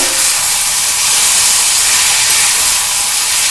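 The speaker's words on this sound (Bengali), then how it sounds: "বন্ধুরা তেলটা গরম হয়ে গেছে, আমি এই আলুগুলো কিন্তু তেলের মধ্যে দিয়ে দিচ্ছি।" Sliced potatoes going into hot oil for a semolina and flattened-rice snack give a loud, steady, close sizzling hiss that holds evenly throughout with no talking.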